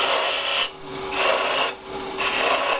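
Spindle gouge cutting the stem of a wooden spin top on a lathe running at about 1800 rpm, loud close rasping shaves in three bursts separated by brief quieter gaps.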